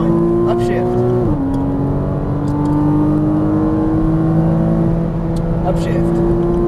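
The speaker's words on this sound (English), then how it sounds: "Squeeze onto that throttle, straighten out, do your first upshift" A Porsche Cayman S engine accelerates hard on a race track, its rising note climbing through one upshift and holding a loud, close whine, while an instructor talks over it throughout.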